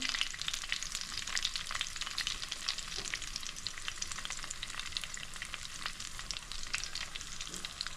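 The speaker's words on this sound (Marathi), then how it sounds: "हा गरम झालेल्या तेलामध्ये आता हे आळूवडी आपण फ्राय करण्यासाठी ठेवायचे" Colocasia-leaf rolls (alu vadi) frying in hot oil, a dense, even crackling sizzle that runs unbroken throughout with small popping bursts on top, close and alone without talk.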